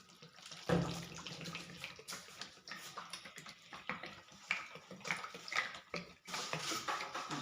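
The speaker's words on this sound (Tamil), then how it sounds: "திருப்பி ஊற்றுவோம் அந்த எண்ணெய்லாம்." Hair oils poured back into a container, giving light liquid trickles and splashes with small clinks of bottles and handling noises, fairly quiet and uneven over several seconds.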